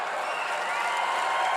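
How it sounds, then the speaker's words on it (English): A stand-up comedy audience applauds steadily, with a wash of clapping and some cheering that stays even and fairly loud. "People applauding that somebody has dementia."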